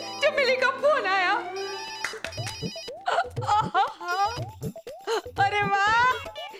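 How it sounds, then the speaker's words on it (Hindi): A telephone rings as a melodic, warbling ringtone tune with a strongly voice-like quality, in repeated bursts broken by short gaps. "फोन आया, फोन आया, चमेली का फोन आया।"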